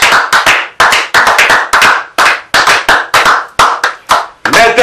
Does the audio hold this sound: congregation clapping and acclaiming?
yes